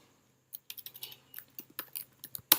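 Fingers typing PHP code on a computer keyboard, a quick irregular run of sharp key clicks, close and fairly quiet, with short pauses between bursts and one louder final keystroke.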